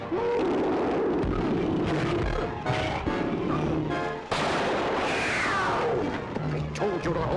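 Gunfire in a 1952 jungle adventure film, several loud sharp reports with crashing bursts spread across the scene, mixed with shouting voices and dense jungle background.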